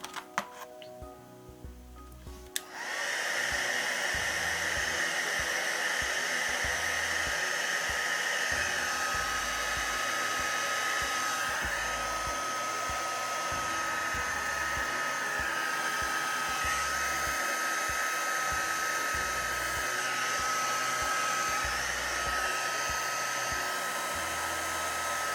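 A handheld heat tool switches on after a few quiet seconds, then blows hot air in a steady, close whooshing drone as it shrinks baby-wipe craft flowers, running continuously to the end.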